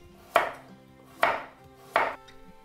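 Three crisp knife chops through carrots on a cutting board, evenly spaced about a second apart, close and clear against near silence with no talking.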